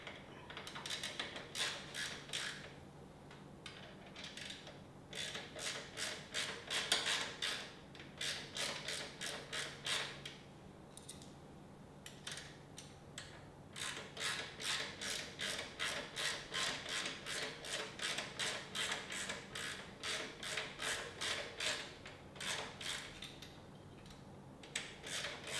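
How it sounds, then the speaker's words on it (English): A ratchet wrench clicks in rapid bursts of repeated strokes, close up, with short pauses between bursts, while the suspension of a 2025 Yamaha Raptor 700R SE is being worked on. "let's get it started with the regular ratchet"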